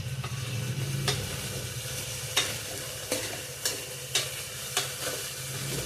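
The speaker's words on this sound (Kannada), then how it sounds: "ಒಂದು 2-3 ನಿಮಿಷ ಎಣ್ಣೆಲಿ ಫ್ರೈ ಆಗಲಿ ಕಾಳು" Sprouted horse gram fries in oil for a sambar, with a soft steady sizzle under a low rumble and several sharp scraping knocks of a spoon stirring the pan at irregular intervals, close and fairly quiet, without talk.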